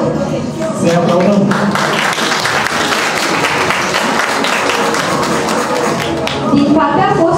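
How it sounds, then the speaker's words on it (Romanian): An audience applauds at a high school freshmen's ball, sustained clapping from a crowd filling the hall, loud and steady for several seconds, with a voice briefly at the start and end. "Se aplaudă!"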